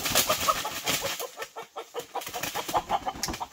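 Chickens cluck near the microphone in a rapid, busy run of short calls that overlap and continue throughout, with no talk.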